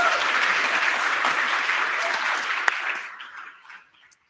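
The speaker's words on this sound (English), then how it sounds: "More applause for Emily." Audience applause at the 100th AIA presidential inauguration ceremony, a dense sustained clapping from a large room that holds steady for a few seconds, then thins out and fades to silence.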